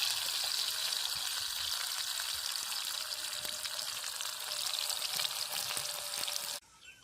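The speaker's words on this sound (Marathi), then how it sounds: "आता कांदा टाकून घेते. मिरची पण टाकते त्याच्यात." Chopped onion and green chillies frying in hot oil at a riverside cooking spot, a loud continuous sizzle that holds steady and then suddenly drops away at the end, with no talking.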